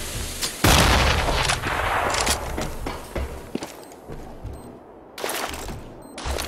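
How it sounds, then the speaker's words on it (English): Grenade explosion in Counter-Strike on the Cache map, a sudden loud boom followed by a lingering rumble among gunfire and movement, then another heavy burst near the end. "Grenade out!"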